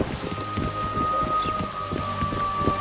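Steady heavy rain in a video game, The Witcher 2, patters densely on a surface with a low rumbling undertone, continuous and close, no voices.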